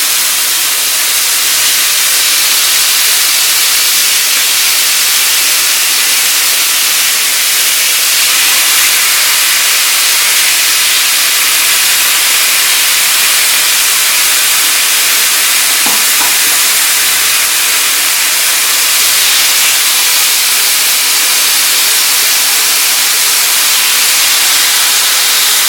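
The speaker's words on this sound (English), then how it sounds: "You're gonna get a nice sizzle." Steady hissing sizzle of food frying in a hot pan, constant and fairly loud, with a faint stirring scrape partway through.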